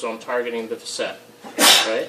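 A single sharp sneeze bursts out close by near the end, right after someone talks about targeting a spinal facet.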